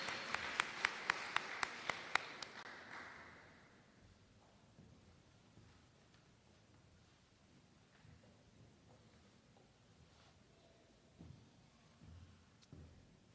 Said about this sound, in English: A round of applause for Miss Campbell